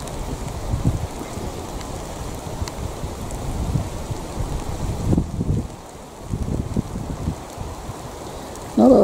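Rain falls outdoors in East Belfast, a steady wash of patter mixed with gusty wind buffeting the microphone, close and fairly loud throughout, with no talk.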